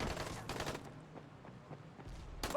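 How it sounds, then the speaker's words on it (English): Grenade explosion in the Dying Light video game: two sharp broadband blasts, one early and one at the end, with a rumbling, crackly gunfire-like wash between them and no voices. "Grenade."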